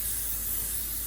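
Cooking spray hisses steadily from a can as grease coats a baking dish for macaroni and cheese, a short continuous close spray with no talking.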